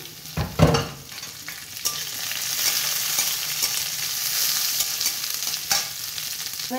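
Capsicum frying in a pan for oats upma sizzles steadily, with a couple of sharp clacks of a stirring spoon near the start and scraping stirs throughout, close and fairly loud.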